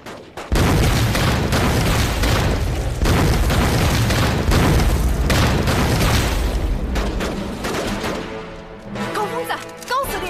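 Hand grenades burst in a loud barrage of booms and blasts during a wartime firefight, repeated heavy explosions crowding together before fading into scattered pops and shouting voices.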